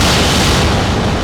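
Artillery bombardment in the WWII strategy game Steel Division 2 lands as one loud, continuous wash of booming explosions, dense and rumbling with no clear gaps.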